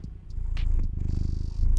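A cat sits on a lap right at the microphone, purring in a close, steady rumbling rhythm with light rustles and scrapes of movement over it.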